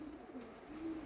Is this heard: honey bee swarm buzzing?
no